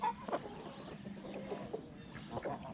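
Chickens cluck softly nearby in a few short, scattered bursts over a quiet background.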